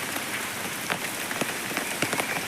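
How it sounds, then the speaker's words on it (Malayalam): Heavy rain pours steadily over an open paddy field in windy weather, a dense continuous hiss with scattered sharper drop impacts close by, no voices. "നല്ല മഴ പെയ്യുന്നുണ്ട്"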